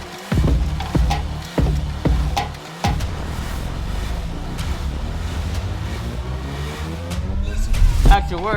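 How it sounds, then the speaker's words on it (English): A car doing burnouts inside an art studio, its engine roaring loud and close, with repeated sharp revs and bursts of tire noise, then a long sustained howl that rises again near the end. "Not many artists can say they did burnouts in their studio."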